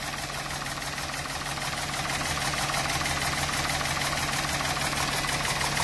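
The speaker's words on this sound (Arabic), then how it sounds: "فيه فيبراسيون كبيرة الموتور" A car engine being diagnosed for oil consumption runs with heavy vibration, a steady rough idle with a constant low hum and rhythmic knocking pulse, close and continuous throughout.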